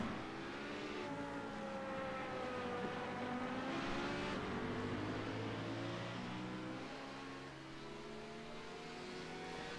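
Multi-class sports cars, including a GT3 BMW, race on a track. Engines drone steadily and rise and fall in pitch as they accelerate and shift, heard from a moderate distance without talk.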